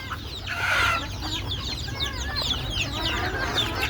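Several chickens and roosters cluck and chatter close by in a farm coop, a busy overlapping stream of calls over low background noise.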